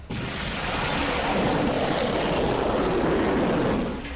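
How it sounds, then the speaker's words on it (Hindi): Missile streaking across the sky after launch from the Chandipur Integrated Test Range in Odisha, a steady broadband roar that swells slightly and holds loud for about four seconds before fading. "आसमान में उड़ती ये मिसाइल"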